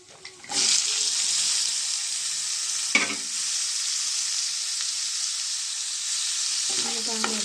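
Two onions with green chillies and garlic hitting hot oil in a pan for a curry, a sudden loud sizzle that holds steady and close, broken by a couple of brief stirring clatters.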